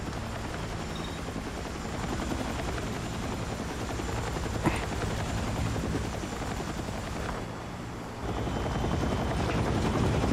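A helicopter in a battle royale video game thrums steadily for the whole stretch, loud and close, its rotor drone dipping briefly before returning, with no talk over it.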